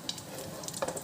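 Mini omelette cutlets frying in a pan, a steady close sizzle with small crackles and a brief louder spatter near the end.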